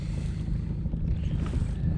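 Old Town Predator kayak driven by a new motor at steady cruising speed, giving a low, continuous drone with wind and water noise, close and alone with no talk.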